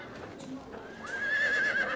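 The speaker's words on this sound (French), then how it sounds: "des hennissements." Horses whinnying inside a large white room where twelve horses stand tied in a row, a rising drawn-out neigh building over the second half above a low stable murmur.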